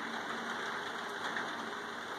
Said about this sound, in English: You hear the rain now.